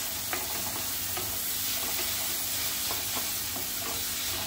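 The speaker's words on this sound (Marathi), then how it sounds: "शिजवायचा आहे मऊ आपल्याला कांदा" Chopped onions fry in a hot pan for dry shrimp ambar, giving a steady, even sizzle with faint occasional stirring clicks and no voices.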